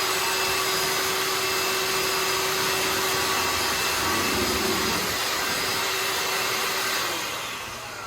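A Bissell Flip-It wet/dry vacuum runs on dry debris with straight suction and no rotating brush, giving a loud, steady motor whine and airflow roar that holds level before tapering slightly near the end.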